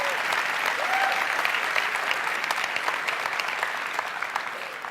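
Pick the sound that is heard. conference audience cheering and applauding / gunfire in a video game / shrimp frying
conference audience cheering and applauding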